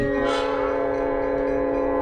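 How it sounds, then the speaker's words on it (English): A train horn sounds loud and close in rural America, a sustained multi-tone blast holding steady with rail rumble beneath and no talk over it. "There's a train coming right."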